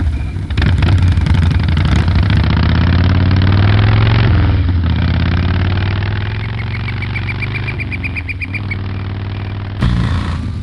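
Motorcycle engine from the 1995 adventure game Full Throttle, a loud steady low rumble with revving swells, joined mid-clip by a brief repeating high chirp before the engine surges again at the end.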